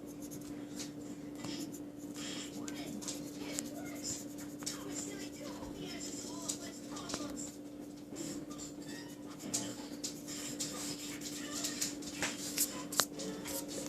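Prismacolor colored pencil scratching and shading on paper, filling a strawberry drawing, with soft continuous scribbling strokes close up over a steady low hum.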